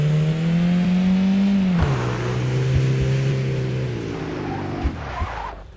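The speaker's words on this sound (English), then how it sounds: "man, that engine sound" A car engine in the Beware video game demo drones loudly and steadily, dropping in pitch as it shifts, with a few thumps near the end.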